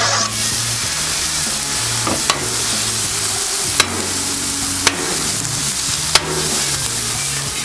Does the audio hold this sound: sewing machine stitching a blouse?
no